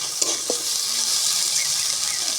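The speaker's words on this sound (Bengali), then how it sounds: "একটু লবণ হলুদ দিয়ে আবারও ভালো করে মিশিয়ে নিচ্ছি।" Soaked lentils with salt and turmeric sizzle in a hot pan as a utensil stirs them, giving a continuous frying hiss with a few soft scraping strokes. There is no talk.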